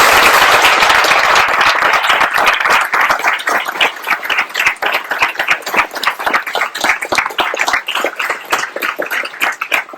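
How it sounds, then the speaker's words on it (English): An audience at an alumni speaker series claps for the speaker Elisa, full applause at first that thins into sparser, distinct individual claps as it continues. "we should have a big round of applause for Elisa."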